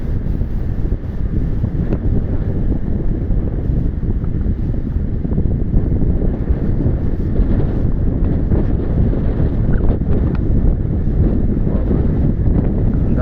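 Strong wind buffets the microphone in a constant loud roar, with the low rumble of big surf beneath it and no voices; a beach in Baler during Typhoon Bavi.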